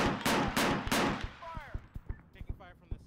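Gunfire in ArmA 3 during a jungle firefight, three heavy shots opening the moment, followed by a string of sharper, lighter pops and cracks at irregular intervals, with faint radio-like chatter in the background.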